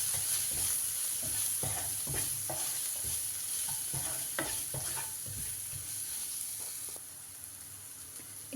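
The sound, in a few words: mixing egg fried rice ingredients with magic masala in pan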